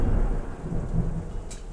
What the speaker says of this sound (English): Oh man, thunder's pretty bad tonight.